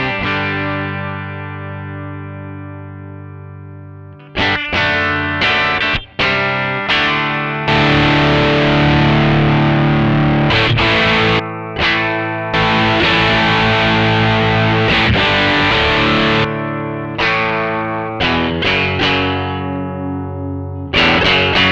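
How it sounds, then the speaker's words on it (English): An electric guitar runs through JOYO American and Mosky pedals stacked for cascading gain, one clean and one dirty, giving loud, thick distorted chords in bursts with short pauses and sustained ringing notes. "Set one clean and one dirty if you want to use them both and have cascading gain stages"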